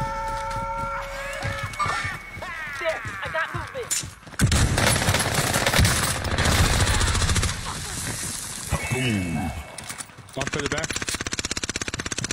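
Rapid gunfire crackles through a Call of Duty match, loud bursts and continuous automatic fire dominating the clip amid game effects and player chatter.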